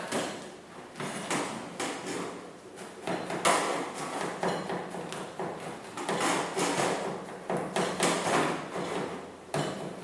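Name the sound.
knife slicing fresh garlic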